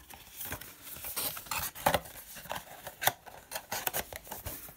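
Light cardboard game box being folded and assembled by hand: a run of crisp scrapes, creases and small tapping knocks at close range, with no voices.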